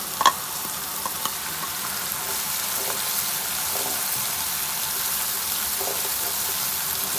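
Okra with turmeric, crushed red chili and salt fries in a pan with a steady, close sizzling hiss, a couple of brief clinks of stirring near the start and no talking.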